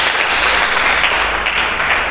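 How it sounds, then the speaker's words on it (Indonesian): Church congregation clapping together during a sermon, a steady dense wash of hands filling the room at close range, with a low hum underneath and no talking. "Berikan tepuk tangan bagi Yesus."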